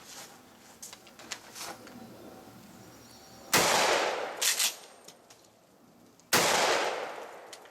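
Two loud, close 12 gauge shotgun blasts with bird shot, a few seconds apart, each a sharp crack with a short ringing tail, preceded by quieter handling clicks and faint movement.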